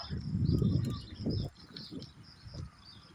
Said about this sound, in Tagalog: Daming pang ibon.